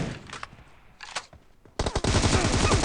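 PUBG Mobile gunfire: a few scattered shots, then a dense burst of rapid automatic fire, loud and close.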